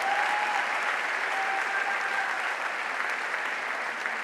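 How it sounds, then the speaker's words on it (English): Steady, dense applause from a large audience at a Springfield College convocation ceremony, a continuous wash of many hands clapping at even loudness throughout. "Let's give them a round of applause because they have been supporting you."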